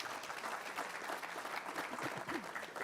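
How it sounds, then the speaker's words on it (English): Audience at a business summit on the food industry applauds a panel, a steady wash of clapping throughout, moderately distant and fairly quiet. "Let's give our panel just another great round of applause."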